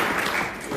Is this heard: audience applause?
yes